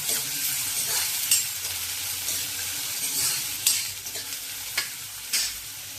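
Finely chopped onion frying in a cumin and mustard seed tempering, a bright continuous sizzle with a few sharp spoon scrapes and clinks against the pan as it is stirred.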